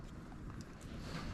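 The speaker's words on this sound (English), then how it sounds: "Now you can probably hear that wind in the background." Wind blowing outdoors in a rural spot near a tractor, a steady low rumbling rush of air buffeting the microphone without a break, fairly loud and constant, with no voices.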